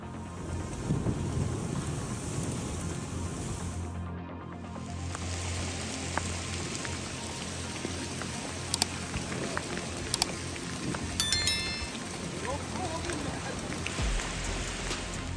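Steady rain from a thunderstorm hisses and patters on surfaces for a long stretch, briefly cutting out near the start, with a few sharper clicks and drips.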